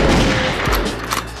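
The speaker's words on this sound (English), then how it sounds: "Double gunshots." Two loud gunshot blasts, a sound effect fired close up, one sharply after the other with a booming tail, ending in a brief burst of further shots.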